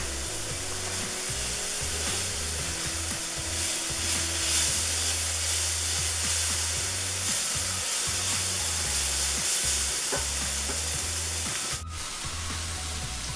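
Paprika sizzles steadily in a cast iron skillet for a Spanish cod in tomato sauce, a close, continuous hissing fry with faint scraping and a low hum beneath.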